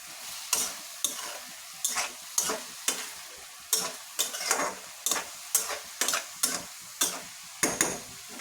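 Moong dal and vegetables stir-fried in a pan, a continuous sizzle broken by regular, evenly spaced scrapes and clanks of a spoon stirring roughly once a second, close and clear with no voices.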